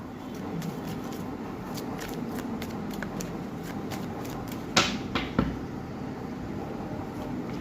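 Tarot cards handled and drawn from a deck, a soft steady shuffling rustle with a few sharper slaps and flicks near the end, close and fairly quiet, no talking.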